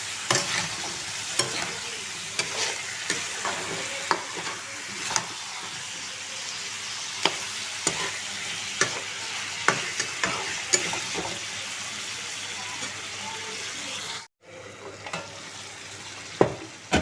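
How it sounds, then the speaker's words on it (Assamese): Chicken pieces and cut potatoes fry in a pan with a steady close sizzle, punctuated by regular sharp scrapes of a stirring spatula, briefly cutting out near the end before resuming. "মাংসটো আৰু অকণমান টাইম ভাজিব লাগিব।"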